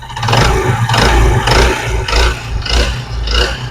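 A Honda CD 70 motorbike engine with a connecting rod fault runs loud and close, pulsing in a steady rhythmic beat of roughly six surges with a harsh knocking grind underneath and no voices.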